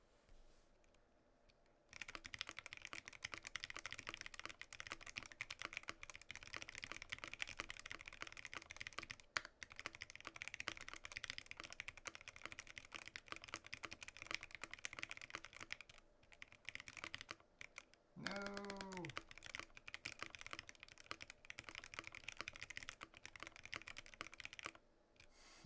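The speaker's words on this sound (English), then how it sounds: "Let's do a typing test." Rapid, continuous typing on an Iron 165 mechanical keyboard fitted with NK Yellow Silk switches gives close, soft clacking keystrokes with brief pauses, plus a short tonal chirp near the end.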